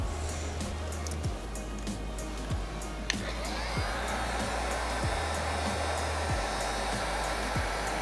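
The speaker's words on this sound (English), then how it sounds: "hopefully this will actually shrink back when I hit it with the heat gun" A heat gun blows with a steady, loud hiss as it shrinks vinyl wrap on a car side skirt, running continuously with a few faint clicks and taps.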